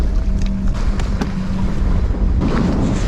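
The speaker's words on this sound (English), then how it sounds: "God damn, it's windy." Strong wind buffets the microphone outdoors while wade fishing at Arroyo City on the South Texas coast, a loud continuous rumbling roar with gusting swells and no voices.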